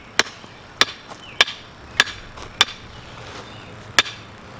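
Six sharp, solid hammer blows land at uneven intervals, each a crisp strike standing out against faint background noise.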